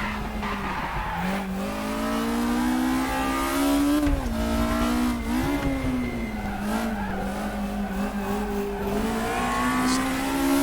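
Race car engine revving and shifting pitch on a hillclimb in the RaceRoom racing game, loud and continuous throughout with throttle blips and faint tire squeal.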